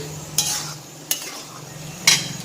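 A vegetable curry of yardlong beans, potato and eggplant cooking in a pan, with three sharp spoon scrapes and stirring clatters over a low steady sizzle, close by and without talk.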